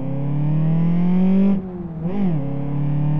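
A car engine in the Live for Speed racing game, a Golf on a dynamometer, revs up toward third gear, drops briefly at a shift, then climbs again. The drone is loud and steady, with no talking.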